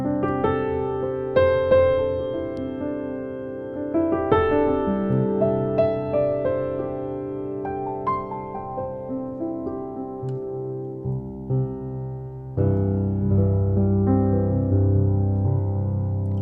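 An Intimate Grand piano on its stock setting plays slow, sustained chords and single notes that ring out and overlap, warm and close, with no voices.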